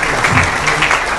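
A crowd claps loudly and continuously at a political gathering, dense applause filling the whole moment.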